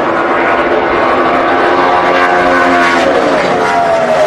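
A NASCAR race car at the 2011 Hollywood Casino 400 with its clutch in and engine cut entering turn three: a loud, steady engine roar that holds throughout, with a pitch falling slightly near the end.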